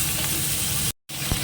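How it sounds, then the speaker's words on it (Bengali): A hilsa fish head fries in a wok with dried red chilli, giving a loud, steady close sizzle with a momentary cut to silence before it resumes. "মাথাটা আগে ভেজে নিই"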